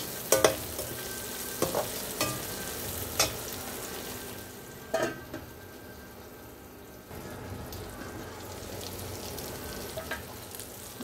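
Okra frying in a pan without onion or garlic, with fennel seeds added, gives a soft steady sizzle broken by repeated scraping stirs, quiet and close, with no talking.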